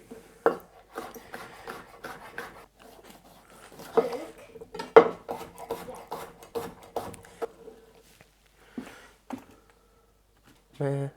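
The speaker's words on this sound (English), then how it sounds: "I'm just going to cut them into little slices just like the green one." A knife slices peppers and chilies into little slices on a board, giving irregular close taps and scrapes with clinks of kitchenware while a voice talks over the cutting.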